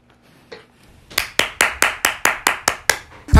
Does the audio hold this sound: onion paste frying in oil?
no